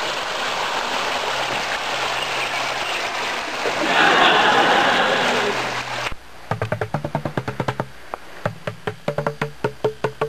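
A river flows steadily outdoors, a broad rushing wash of water for about six seconds before it cuts off to quieter ambience with a run of sharp, regular clicks or taps.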